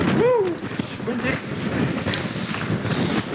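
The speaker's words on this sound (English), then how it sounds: "Woo! Windy." Wind gusts across the microphone outdoors at Corfe Castle, a steady rushing roar. A brief voice is heard at the start.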